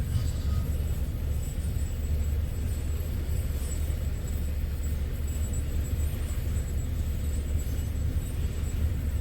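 A freight train rolls past near the Attica derailment site, a steady low rumble of wagons on rail that holds loud and unbroken throughout, with no voices.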